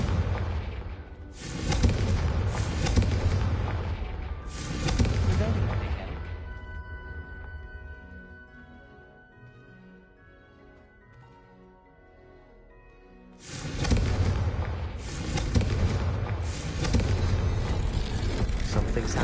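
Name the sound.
Confringo blasting spell exploding in the video game Hogwarts Legacy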